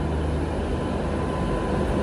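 A Palakkad-bound train pulls in at platform 3, heard as a dense, steady low rumble and broadband wash of rolling stock that fills the short stretch without pause.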